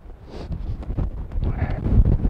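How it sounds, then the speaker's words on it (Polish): Strong winter wind buffeting a microphone on an exposed hike, low gusty rumbling that swells and grows louder toward the end, with no voices. "Naprawdę wiatr jest bardzo mocny"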